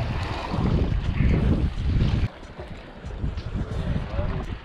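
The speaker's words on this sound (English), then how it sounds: "the wind is really, really picking up" Strong wind buffets a fishing boat on open water, a loud steady roar with gusty swells that drops sharply midway and then rises again.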